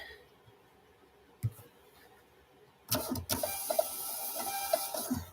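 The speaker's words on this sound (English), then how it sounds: "Love this Rollo printer." Rollo thermal label printer running during order packing, a steady mechanical whirring with small clicks that starts abruptly partway through and continues loudly to the end after a quiet stretch with a single brief knock.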